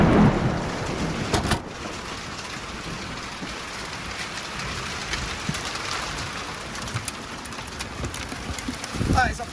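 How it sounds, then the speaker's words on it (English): A heavy thunderstorm roars over a guest house while rain pours in through a leaking roof. A loud thunder crack opens the passage, then comes a dense, continuous downpour, and a second rumble swells at the end. "That is a proper storm."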